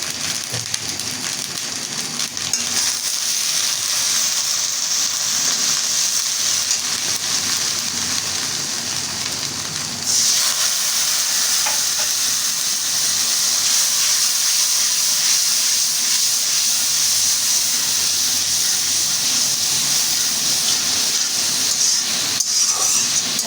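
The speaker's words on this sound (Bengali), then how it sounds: "মশলাটা ভালো করে কষিয়ে নেব" Spice paste fries in a pan with cumin and salt, giving a steady, loud, hissing sizzle that runs throughout, with a slight shift in texture partway through and no voices.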